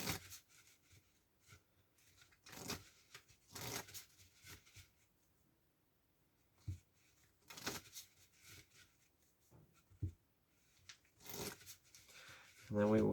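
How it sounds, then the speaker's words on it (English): A deck of playing cards is shuffled by hand in a quiet room, giving several brief riffling and snapping bursts spread across the stretch, each fairly faint, with soft handling rustles between them. "We'll give this a couple of shuffles."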